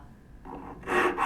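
Rasp worked slowly across wood on a turning bow saw, a dry scraping stroke that builds from a light rub to a louder, brighter rasp near the end, close and alone.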